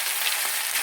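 Ginger, chili and garlic paste sizzles steadily in hot oil with ajwain and mustard seeds, a bright, continuous frying hiss close up with no talking.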